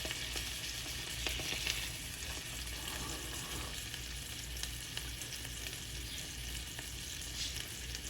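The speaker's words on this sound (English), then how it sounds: "I have the marinated piece of salmon. I want to cook it really well." Salmon marinated in garlic, lemon zest, lemon juice and gochujang sizzles in a frying pan, a loud, continuous close-up crackle with light scraping and stirring sounds.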